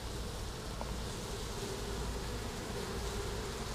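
Bees swarming around an opened Flow Hive during a comb repair check, a dense continuous buzz of many insects close by with no voices.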